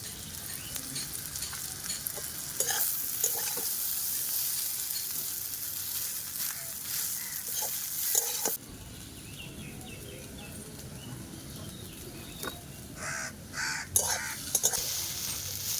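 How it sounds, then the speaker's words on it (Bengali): Chow mein noodles sizzle and crackle in a hot pan with steady frying noise, broken by occasional stirring scrapes and a distant crow cawing. "চাউমিনটা ভালো করে ভেজে নিয়েছি"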